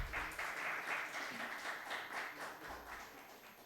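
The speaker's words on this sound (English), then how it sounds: "I need a huge round of applause for contestant number 14" An audience at a student talk competition at MIT ADT applauds contestant number 14 with faint, steady clapping, continuous and distant, with no voices over it.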